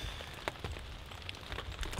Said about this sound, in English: It's been raining for 2 days now.